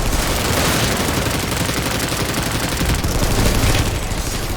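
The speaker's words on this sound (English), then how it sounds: "it's so much better to be able to hear my gunshots again." Dense, continuous video-game gunfire roars without pause for several seconds, a loud, rapid barrage of overlapping shots with no talk over it.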